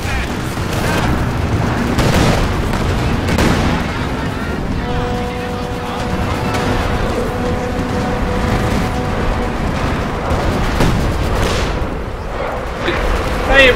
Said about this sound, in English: I'm going to use the Zeroing artillery.